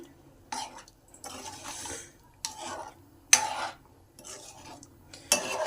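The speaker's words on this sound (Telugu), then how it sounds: "ఒకసారి బాగా కలుపుకుందాం" A spoon stirs Nellore-style mutton and okra curry in a metal pot, giving intermittent close scraping and clinking bursts separated by short quiet gaps, with a soft voice faintly audible at times.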